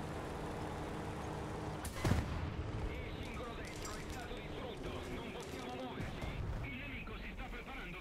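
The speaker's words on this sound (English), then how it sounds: "Those are bombs." Bombs burst during a tank video game battle featuring an Italian 75/34 M43 tank destroyer, with a loud blast near the start and continuous rumbling combat noise while a player talks over it.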